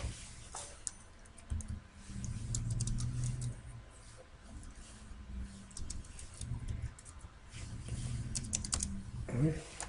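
Steady typing on a computer keyboard with shortcut presses while writing code in RAD Studio, a close run of quick, uneven clicks over a low room hum, with faint talk in places.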